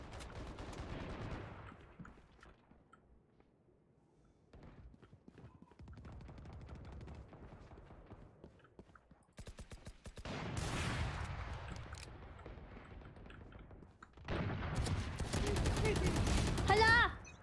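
Sheriff pistol shots ring out in a video game, bursts of sharp reports in clusters with quieter stretches between, mixed with game effects and a voice talking over parts.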